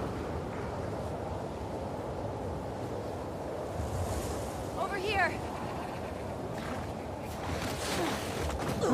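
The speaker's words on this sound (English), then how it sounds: "Storm's really picked up." Stormy wind and crashing waves in The Last of Us Part II, a steady roaring wash of surf and gusts that holds continuously, with a brief higher swirl in the middle.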